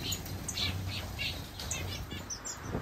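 Small finches and weaver birds chirp in an outdoor aviary, with quiet, scattered high tweets and calls over a low background rumble.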